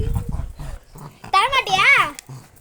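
A puppy growls and whines in short strained bursts while holding onto a ball during play, close and loud, with a person talking to it before and between the sounds.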